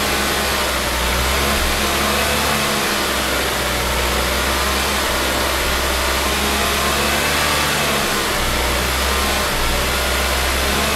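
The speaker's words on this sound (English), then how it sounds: "Hopefully it's picking up that it's trying to die and just having to give it some gas to keep it going." The 2.5-liter turbo engine of a Mazda CX-9 runs loud and close, stumbling as if about to stall and then held alive with bursts of throttle, its rough drone rising and sagging, with no voices.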